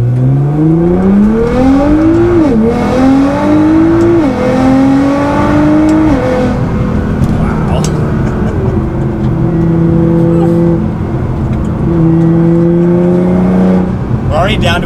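Nissan GT-R with a race front-mount intercooler accelerating hard on a spirited run, its turbo engine rising through several gears in steady climbing pulls with brief drops at each shift, loud and close from inside the car.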